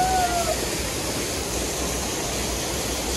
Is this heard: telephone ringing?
no